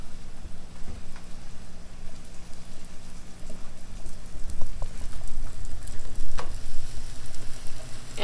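Two grilled cheese sandwiches frying in an already hot pan give a steady, close sizzle with crackles and small pops throughout, with no talking.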